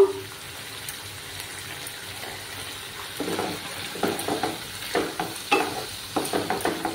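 Ginger paste, ground green chilli, black pepper and turmeric sautéing in a pan for a vegetarian jackfruit curry, a low steady sizzle with repeated scraping stirs growing louder and more rhythmic in the second half.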